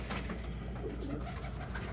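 Pigeons kept in confinement cooing softly and steadily, with low murmuring calls running continuously through a close, quiet indoor space.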